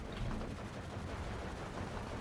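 40mm guns firing in the Steel Division 2 strategy game, a continuous dense rumble of gunfire and explosions with no gaps, loud and steady throughout, with no voices.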